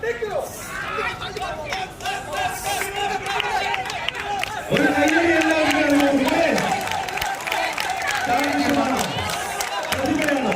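Crowd at a tug-of-war final in a Kochi shopping mall during Onam claps and cheers steadily, a dense loud wash of applause with shouts and babble throughout.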